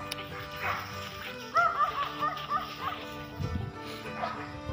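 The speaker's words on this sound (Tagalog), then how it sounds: "Grabe yung mga aso din mga ka-farmer" Farm dogs bark and yip in short bursts at moderate distance, with a steady background hum running underneath.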